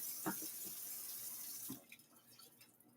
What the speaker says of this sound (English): That's why I rinse my dishes. And I like to put them in the other side of the sink.